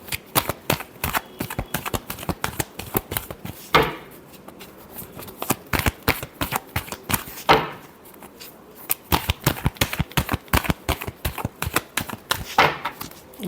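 A tarot deck is shuffled by hand in a dense run of sharp card slaps and riffles, broken by two brief pauses, close and fairly loud with no talking.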